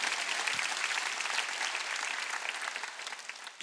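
A church congregation clapping for God during a Sunday service, a dense, sustained wave of many hands at an even level throughout, ending with a brief louder sound at the close.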